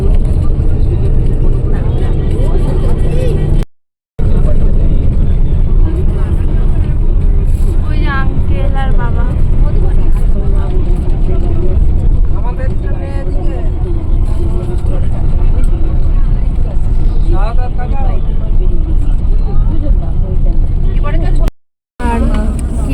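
Inside a moving bus on a trip toward Mandarmani, a loud low engine and road rumble drones continuously. People talk over the rumble throughout.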